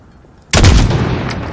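A single sudden, loud large-caliber sniper rifle shot in Call of Duty booms close up and then rolls off into a short echoing tail.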